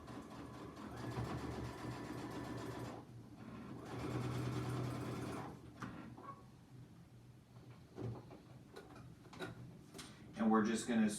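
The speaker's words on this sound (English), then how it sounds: "So let's head to the sewing machine." A sewing machine stitches fabric for a zippy clutch in short runs, a steady mechanical whirring hum in two bursts, then quiet with scattered handling clicks and taps nearby.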